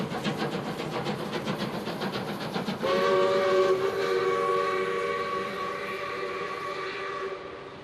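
South Australian Railways steam locomotive 621 running on Victorian Railways track near Bordertown in 1994, loud and close with rhythmic chuffing, then a long sustained whistle blast sounding over the rumble of the passing train.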